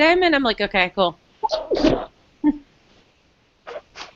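A person sneezes in a room during a talk-show style conversation, one sharp burst followed by a smaller second sneeze, with speech before and around it.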